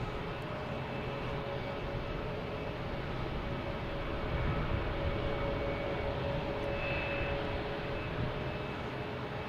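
A Delta Airbus A321 airliner arriving from Atlanta at Boston Logan Airport gives a steady, distant jet roar that swells slightly midway, with no talk over it.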